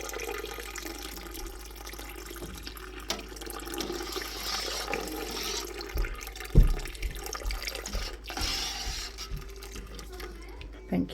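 Milk pours steadily into a cooking pot for homemade cheese, a soft continuous liquid rush with a few louder splashes midway, alone without talk.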